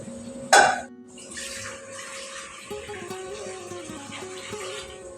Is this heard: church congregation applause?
no